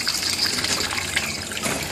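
A child splashes and churns water, giving a dense, continuous rushing and gushing sound that stays loud and close throughout, with no talking.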